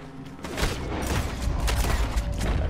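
Red Dead Redemption 2 Online gunfire, a rapid string of loud overlapping gunshots and booms from several guns, close and chaotic, with no speech over it.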